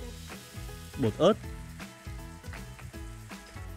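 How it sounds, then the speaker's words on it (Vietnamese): Ground beef with chili powder sizzles loudly in a hot pan while being stir-fried for a Korean chili sauce. The crackling frying hiss is continuous, with brief stirring scrapes, and a voice speaks over it. "Xào thịt bò xay vừa tới."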